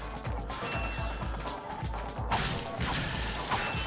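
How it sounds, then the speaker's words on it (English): Breakable pipes smashed for bolts in Ratchet & Clank on PS3, giving repeated close metallic crashes and thwacks over a dense, busy game soundtrack, with no talk. "So here's our pipes we can break for some extra bolts"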